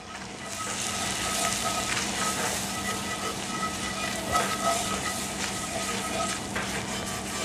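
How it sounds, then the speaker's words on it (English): A butter and flour roux cooking in a pan for a sauce, giving a dense, steady bubbling sizzle with faint stirring scrapes, close and continuous with no talking. "I'm making a roux to make the sauce, and I'm gonna cook out the flour"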